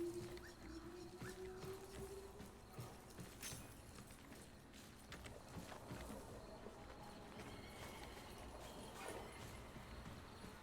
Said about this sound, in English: We have a horsey.